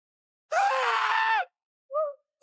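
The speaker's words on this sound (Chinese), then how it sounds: "杰瑞一边惨叫一边逃跑" An astronaut screams while fleeing a monster on an unknown alien planet in a sci-fi film. A loud, strained scream lasts about a second, then a shorter cry follows after a brief pause.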